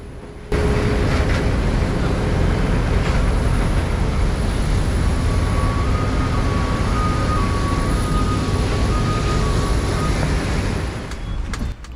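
Steady, loud engine drone with a constant hum and a thin high whine from an ATR 72 turboprop airliner's propellers running throughout without pause.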